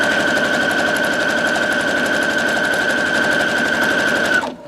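A sewing machine stitches along the edge of fabric for a zipper bag, with a short back stitch near the end. It hums loudly and steadily at close range for several seconds, then stops abruptly.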